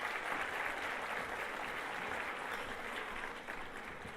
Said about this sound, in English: Please give Dr. Garnett Stokes a round of applause.